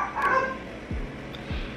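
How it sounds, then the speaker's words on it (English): Pet dogs bark and yip excitedly indoors, a quick cluster of high yelps followed by two deeper, separate barks, close and fairly loud. "My dogs are going crazy right now, and I don't know why."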